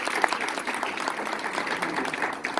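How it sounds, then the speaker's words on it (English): Applause from an audience at a pharmacists association inauguration ceremony, a steady dense wash of many hands clapping at moderate distance, continuing evenly throughout. "Let's have another round of applause for our interim president."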